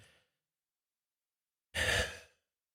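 A single deep breath, a soft, close exhale that swells briefly and fades, after a faint breath at the start and a long stretch of silence.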